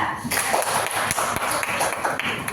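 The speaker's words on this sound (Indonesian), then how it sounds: "Tepuk tangan untuk kelompok 3" Students in a classroom clap for a group, a steady close patter of many hands with a few sharper taps standing out.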